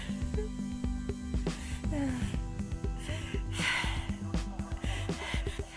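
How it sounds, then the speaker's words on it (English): A woman performs female werewolf transformation breathing as a vocal effect: rapid, ragged gasps and snorting breaths in an irregular rhythm, close and fairly quiet, with no words spoken. "The first steps are breathing sounds to illustrate the first symptoms of the transformation"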